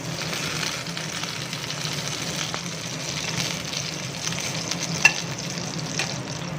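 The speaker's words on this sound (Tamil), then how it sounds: "கத்திரிக்காயை போல நிதானமாக நல்லா வதக்குங்க இதை எண்ணெயிலேயே பொடிச்சு கூட எடுத்து போடலாம்" Brinjal pieces sautéing in hot oil over a low flame for a Hyderabadi baingan bharta, a soft continuous sizzle and crackle with an occasional faint clink of a utensil, steady and close.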